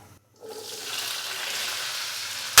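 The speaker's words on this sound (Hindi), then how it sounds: "तो अभी मैं आलूओं को 2 से 3 मिनट के लिए पहले ऐसे ही फ्राई करूंगा।" Potatoes frying in hot oil in a pan for achari aloo, a steady broadband sizzle that rises after a brief quiet start and holds close and fairly loud, with a sharp burst at the very end.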